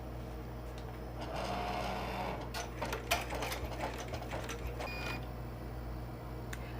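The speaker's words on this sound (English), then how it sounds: "Now it's time to stitch the shoelaces." An embroidery machine runs steadily, stitching shoelace detail onto a high-top shoe zipper bag, a continuous mechanical hum with rapid needle clatter and a few sharper knocks, close and fairly quiet.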